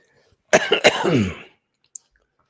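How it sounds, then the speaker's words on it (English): A man coughs in a short, harsh burst of several raspy coughs lasting about a second, close to the microphone, followed by silence and one faint click. "forgive my coughing and wheezing"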